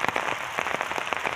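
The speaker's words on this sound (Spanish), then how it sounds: "el granizo que está cayendo es fuertísimo" Heavy hail falls outdoors near a rose garden in Padova, Italy, sounding as rapid close irregular pattering impacts that continue without a break and with no voices.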